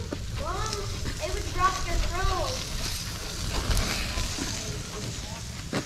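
Thick prime ribeye steaks sizzle on a grill at a state park, a steady close crackling hiss running throughout, with voices talking over it.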